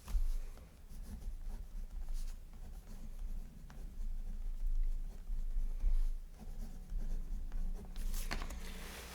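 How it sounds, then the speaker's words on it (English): Pen writing on paper in a Hobonichi Cousin planner, soft scratchy strokes in short bursts, close and quiet. "I'm just going to write it in."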